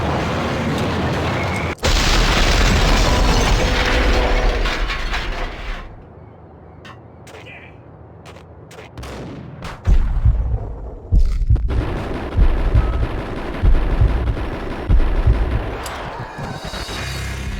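Shotgun blasts in the PC game Max Payne: loud booming shots, a dense stretch of heavy firing, a quieter pause, then a series of separate sharp blasts near and forceful.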